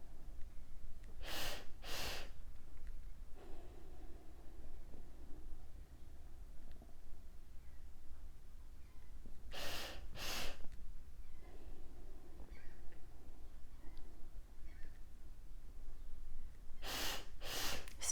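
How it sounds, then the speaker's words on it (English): Slow guided breathing: three sharp double inhales at roughly eight-second intervals, each followed by a long, soft exhale under steady low background hiss, with no talking. "Stay with the breathing pattern."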